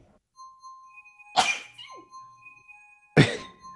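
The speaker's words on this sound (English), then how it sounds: "It's cute that your little puppy sneezes." A small puppy sneezes twice, each a sharp, close burst separated by a short pause, over a quiet background with faint steady electronic tones from a kart racing game.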